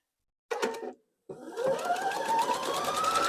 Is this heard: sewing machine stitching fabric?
yes